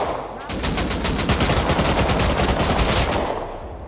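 Sustained heavy gunfire in the console survival game Rust, a dense, loud fusillade of rapid overlapping shots that barely lets up across the whole stretch.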